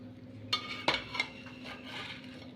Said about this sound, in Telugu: ముక్కలన్నిటికీ కలిసే విధంగా మనం కలుపుకోవాలి